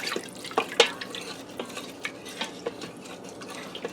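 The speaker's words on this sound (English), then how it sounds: "Give that a stir quick. Want to scrape everything off the bottom of your pot" A spoon stirs and scrapes cream of broccoli soup in an Instant Pot, soft wet swishing with a few sharp scraping clicks against the metal bottom, fairly quiet and up close.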